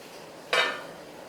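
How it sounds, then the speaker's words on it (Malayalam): A lid is set on a cooking pot of chicken vindaloo, a single short metallic clink that rings briefly and fades, close and alone against a quiet kitchen background. "മൂടി വെക്കാം."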